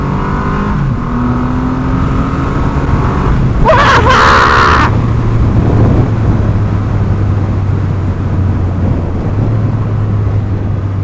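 A 2020 Triumph Rocket 3 R motorcycle engine drones, its pitch rising as it accelerates, with a loud rushing burst midway and a steady hum continuing after.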